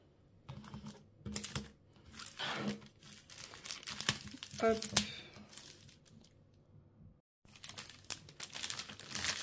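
Wrapping paper around a parcel crinkles and rustles in bursts, mixed with tearing and handling noises, while a person speaks briefly over the rustling.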